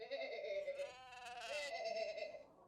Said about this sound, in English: Ah, it's a ram.